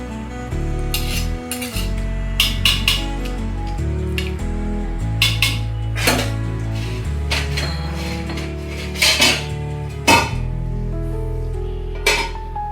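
Clanks and clinks of metal cookware as a lid is set on a pot of chicken pishpash, several sharp knocks over a steady background sizzle.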